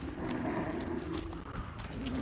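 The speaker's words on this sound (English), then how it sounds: "Oh, there's a horse." Horse hooves in Hunt: Showdown: a steady clip-clop of hoofbeats at moderate distance over a low rumbling ambience.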